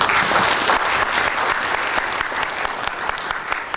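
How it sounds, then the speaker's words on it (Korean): Loud, dense applause from a crowd at a volunteer association's president inauguration ceremony, continuous clapping from many people filling the room without pause. "그간 고생 많이 하셨다는 박수 한번 더 보내주세요"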